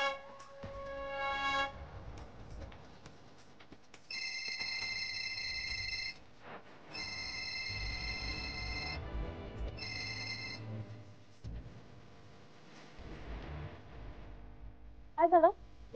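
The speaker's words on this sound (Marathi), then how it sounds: "महाडिक सरांना फोन करायचा होता." A telephone rings on an outgoing call in a Marathi TV serial scene, giving three repeated bursts of ringing with short gaps and some background sound between them.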